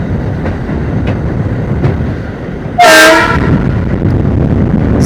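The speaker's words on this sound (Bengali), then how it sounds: "এখানে এলএইচবি রেক রয়েছে।" An Indian Railways train with an LHB rake passing near Halisahar, a loud continuous rumble with faint rhythmic clicks and a brief sharp horn blast midway.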